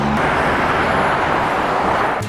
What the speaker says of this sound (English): it must be pretty annoying to hear the cars go by every 2 seconds